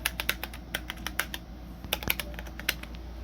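Buttons on a computer keyboard are pressed in a quick, irregular series of sharp clicks and taps, close by, with short pauses between bursts and no talking.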